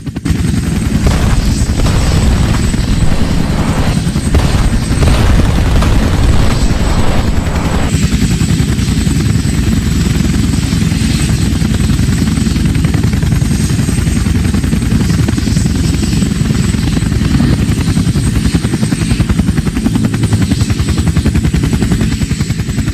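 Mi-24 Hind military helicopters fly close by in a loud, steady, continuous rotor and turbine roar that holds its strength throughout, with no voices.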